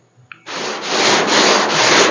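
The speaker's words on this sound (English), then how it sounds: "instead of sanding like this, I take my board and I give her a little bit of an angle" Continuous abrasive sanding strokes from a sanding board rasp against a primed surface at an angle, loud and close, starting after a brief tap and rubbing steadily without pause.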